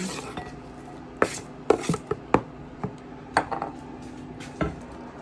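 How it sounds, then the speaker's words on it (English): A knife chops potato into smaller pieces on a board, irregular sharp knocks arriving in short clusters with pauses between, close and clear over a quiet kitchen background. "I'm further chopping it into more pieces"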